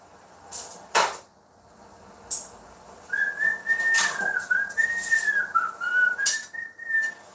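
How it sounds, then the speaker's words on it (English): A person whistles a wandering tune alone, steady and fairly close, after a few soft knocks and clatters at the start. "Y'all hear me whistling?"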